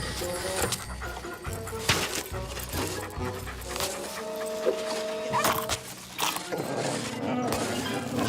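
A cartoon dog pants in an animated scene, quick breathy huffs scattered among sharp clatters and background music, moderately close and without speech.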